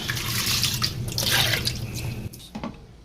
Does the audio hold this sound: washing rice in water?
yes